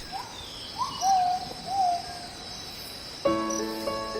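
Blakiston's fish owl calling at night in a Russian rainforest, a few low drawn-out hoots spaced over several seconds against a steady hiss of night insects, followed by a chorus of tonal calls.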